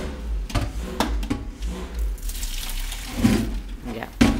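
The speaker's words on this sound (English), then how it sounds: "And you just drain the water off" Water poured from a pot of cooked clams into a kitchen sink, a steady splashing gush with low rumbling and a few sharper clunks of the pot, close and fairly loud.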